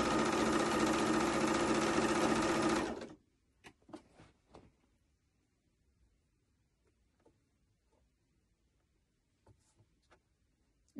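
A sewing machine stitches a peplum top seam in a steady, close burst for about three seconds, then stops, leaving a few light clicks and handling noises against quiet.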